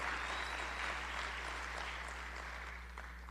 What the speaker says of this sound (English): let's give a round of applause to our law enforcement